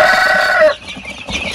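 Penned chickens at feed give a loud, close cluck and squawk that cuts off abruptly, followed by softer pecking and rustling.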